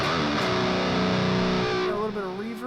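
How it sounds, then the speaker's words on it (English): Electric guitar played through the STL Tonality Andy James amp plugin with reverb and delay: a sustained, singing lead note holds steady, then bends and wavers with vibrato as the echoes trail off. "a little bit of reverb or some delay on there"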